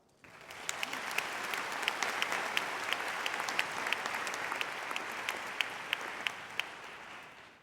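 A crowd at a law school commencement ceremony applauds steadily for several seconds, with a few sharp claps standing out before the clapping fades away.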